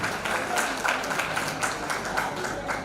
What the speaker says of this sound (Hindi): इनके लिए जोरदार ताली होना चाहिए।